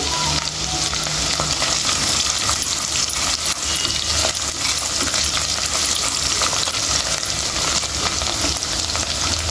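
Tomato egg curry base frying in a pan, a loud continuous sizzle with stirring scrapes throughout, close up and steady with no speech.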